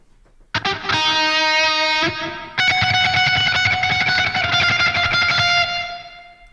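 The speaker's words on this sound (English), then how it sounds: "I took the same tone and just added a few after effects. So the reverb here." Distorted electric guitar chords ring out loud and sustained, with a washy reverb effect tail letting each strum linger before fading.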